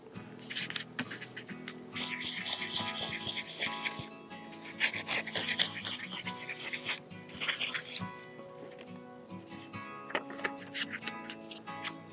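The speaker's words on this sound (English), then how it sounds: "So what I have right now here with me is different grits of sandpaper starting from 320 and going up to 2000." Sandpaper rubs across the frets of an electro-classical guitar in quick, rhythmic back-and-forth strokes, soft and close, removing file marks.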